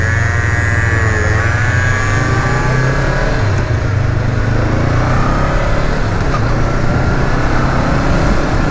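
Honda CBR500R motorcycle being ridden, its engine droning steadily and loudly throughout with a continuous low hum and wind rush, no speech over it.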